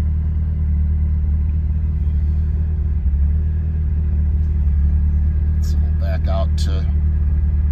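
A 1980 Ferrari 308GTSi idles steadily during its cold-start warm-up, a dense low engine rumble heard from inside the car, constant and loud, with a brief spoken phrase near the end.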